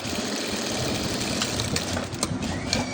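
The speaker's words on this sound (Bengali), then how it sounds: "এইটাকে এখানে সুন্দর করে সেলাই দিয়ে নিলাম" A sewing machine stitches the cuff onto a jubba sleeve, a close, continuous rapid mechanical whirr with faint clicking, heard alone without talk.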